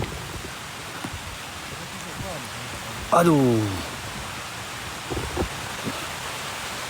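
Rain falls in a continuous hiss on a hillside in the woods, with a man's short loud exclamation cutting through midway before the steady downpour carries on.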